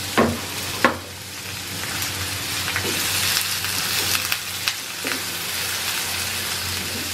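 Chiles, onion and chopped garlic fry in a pan with a steady, close sizzle, broken by a few sharp clicks and stirring knocks; no one talks.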